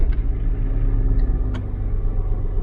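The starter motor cranks the TDV6 diesel engine of a Land Rover Discovery 3/4, struggling at first. It makes a close, steady, low rumbling drone with faint rhythmic pulses and no talking.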